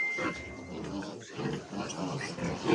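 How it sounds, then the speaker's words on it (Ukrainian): Two-week-old piglets grunt and squeal close by in a pen, a cluster of short, snuffling calls that overlap for a few seconds. "Такі теж хороші поросятка в дві неділі."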